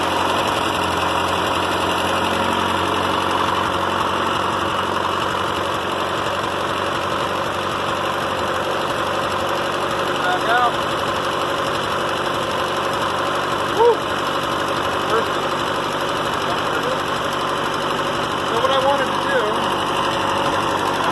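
A Ford 8N tractor engine idles steadily with a slight exhaust leak, an even mid-pitched rumble and hum throughout, with a few faint knocks and brief clatters over it.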